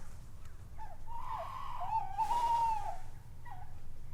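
Tawny owls call from a tree among the overgrown ruins of a derelict coal mine, a wavering hoot rising and falling over a few seconds, fairly faint and distant against a low rumble, with no voices.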